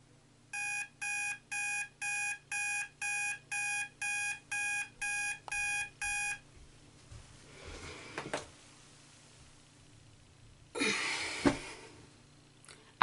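An alarm clock gives about ten evenly spaced bursts of bright, loud beeping, then stops. Rustling and a breathy snort or sigh follow in a quiet room.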